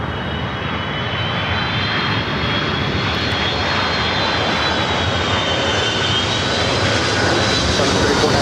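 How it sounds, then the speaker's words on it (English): A Delta Boeing 757 arrives at Los Angeles LAX from Boston, a loud sustained engine roar with a high whining tone sliding across, rising slightly as it nears. "This 757 coming in from Boston, Delta 1728"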